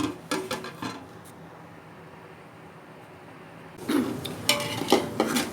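Metal pot lid set onto a cooking pot of chicken aloo gosht, with clinks and clatters of cookware at the start, a quiet stretch, then more metallic knocks and rattles near the end.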